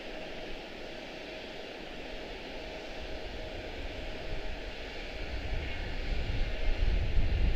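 An eleven-year-old Boeing 777 jet airliner at Charlotte Douglas airport produces a steady distant engine roar that slowly swells louder toward the end.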